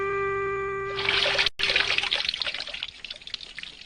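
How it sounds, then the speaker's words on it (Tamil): In a cartoon, water is poured onto the floor: after a short tone, a loud splashing pour begins, then breaks briefly and continues as a trickling, dribbling flow that fades out. "ஏன்பா இப்படி தண்ணியை கீழே கொட்டி வீட்டையே நாசம் பண்றீங்க?"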